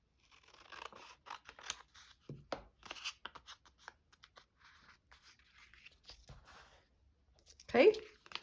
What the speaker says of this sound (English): Let's do scissors.